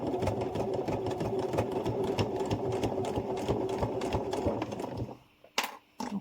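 Steady, continuous whir of a sewing machine stitching a cushion cover seam with a 0.5 cm allowance, running evenly for about five seconds before stopping, followed by a few faint handling clicks.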